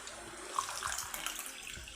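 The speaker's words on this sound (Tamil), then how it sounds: "இந்த ஸ்டேஜில் இதில் தண்ணி விட்டுடலாம்." Water poured from a cup into gram flour batter in a kitchen, a soft, steady trickling splash that runs for a couple of seconds at low volume.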